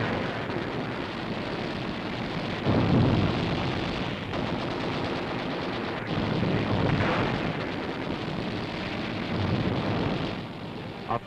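Wartime gunfire and artillery from an entrenched stronghold in 1943 newsreel footage, a continuous dense clatter of rapid shots with heavier booming bursts mixed in, loud and unbroken throughout.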